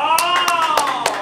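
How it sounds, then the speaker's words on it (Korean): A few people applauding briefly after a first-time hands-on woodworking attempt, a short close burst of scattered claps with a faint voice underneath. "박수!"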